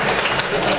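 Guests at a Polish wedding reception clap together in a brief, dense burst of applause, loud and close, with no voices standing out.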